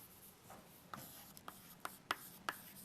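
Pen or pencil writing by hand on paper while working a stress calculation, soft scratchy strokes with a few sharper taps, quiet and close over faint background hiss.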